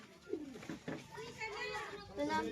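Caged pigeons coo with soft, low rolling calls, and people talk over them close by.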